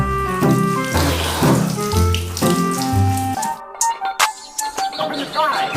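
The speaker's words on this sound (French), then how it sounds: "j'ai terminé ma petite douche" Shower water streams and splashes steadily under a tonal musical background, then thins into intermittent drips and splashes toward the end.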